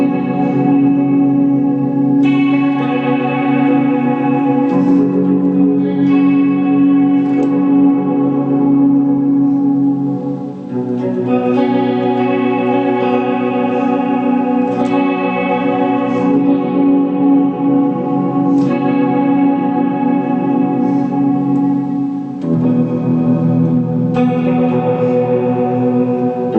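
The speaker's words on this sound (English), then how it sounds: "I'll switch it over to a really huge reverb, and then this weird sound, the Leslie kind of sound" Sustained electric guitar chords through an old rackmount multi-effects unit, drenched in huge reverb with a swirling Leslie rotary-speaker warble, ringing continuously and loudly without pause.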